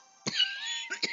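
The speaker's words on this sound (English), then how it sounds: "this annoying cough" Two or three short, harsh cough bursts break through a sustained tonal hum, fairly close and loud, separated by a stretch of steady sound.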